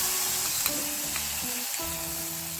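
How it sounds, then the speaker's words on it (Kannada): Garlic sizzles in hot oil for tempering a kesuvina leaf chutney, a dense, steady frying hiss with crackles heard close, no talking over it. "ನಾವು ಬೆಳ್ಳುಳ್ಳಿ ಒಗ್ಗರಣೆ ಹಾಕೊಳ್ಳೋಣ"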